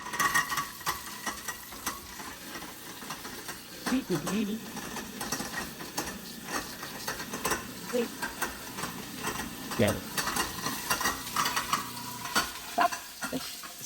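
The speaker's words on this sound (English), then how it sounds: "This one might be the garbage disposal if I had to guess. Let's see. Yep, let's try." A residential kitchen garbage disposal runs with a steady grinding whir and gurgling water, something seemingly caught inside, heard close with a short spoken remark over it.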